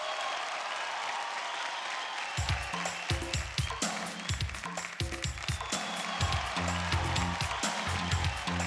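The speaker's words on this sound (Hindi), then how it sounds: "जोरदार तालियां गाइस" A dance-show audience in a studio breaks into loud applause that starts abruptly partway through and keeps going as dense, sustained clapping, with music playing underneath.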